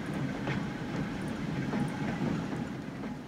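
Trains run in the railway-building video game Transport Fever, a steady rumbling roll with faint clickety-clack, held at an even level and without talk.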